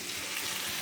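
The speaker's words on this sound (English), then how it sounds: "we're having a nice time here in the rain, in our camper where it's dry." Rain falls on a camper, a dense, steady hiss of drops drumming on the roof, close and unbroken for a brief moment.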